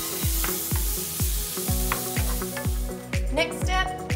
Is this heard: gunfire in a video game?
no